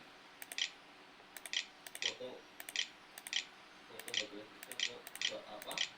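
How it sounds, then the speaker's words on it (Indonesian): Laptop keys clicking as a password is typed on the internal keyboard of an HP 14S DK with an AMD A9 board, sharp taps in small bursts at close range, with faint speech-like sounds in the background. "kita masukkan password menggunakan keyboard internal"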